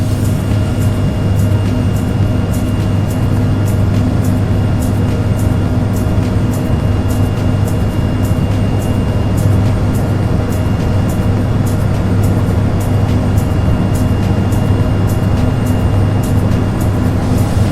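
Kenya Airways Embraer ERJ190 on its takeoff roll in the Prepar3D flight simulator, a steady loud jet engine roar with a constant hum and a faint rapid ticking throughout, no voices.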